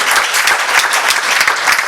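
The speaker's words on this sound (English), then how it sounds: "please give a big round of applause, even though she's not here, for a commendable service in the field of medicine" Audience at a medical award ceremony applauds steadily for an absent award recipient, dense continuous clapping throughout with no break.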